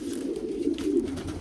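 Racing pigeons brought from Holland cooing close by in a loft, a soft continuous low murmur of several birds.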